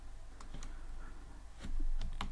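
Keys clack on a computer keyboard during a Python coding session, a sparse run of distinct close clicks and taps with short pauses between them, growing slightly louder toward the end.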